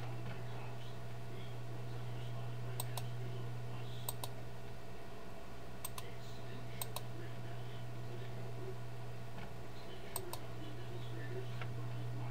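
Computer mouse clicks sound as sparse, sharp, quiet clicks in pairs and singles over a steady low electrical hum in a quiet room.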